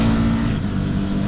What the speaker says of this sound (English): But check this out. Quick shifter.